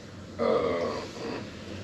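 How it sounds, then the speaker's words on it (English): A single short human burp, a low rough guttural release lasting about half a second, fairly close, trailing into faint breathy noise with no talk over it. "Oh shit! I got a burp."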